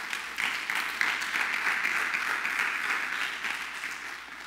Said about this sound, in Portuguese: Dá um aplauso ao Senhor aí.